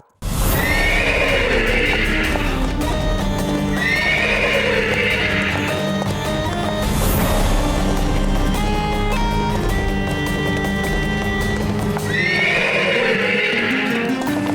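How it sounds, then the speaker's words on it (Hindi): A spirited, untethered horse whinnies loudly and repeatedly at regular intervals, and hoof clops and movement run under the calls. "कोई ढंग से बांधो इस बिन मालिक के बिगड़ेल घोड़े को"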